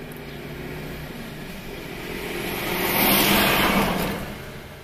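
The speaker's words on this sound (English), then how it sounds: "Oh, this lorry's going to be noisy." A lorry drives past on a street, its engine rumble swelling to a peak midway and then fading as it moves off.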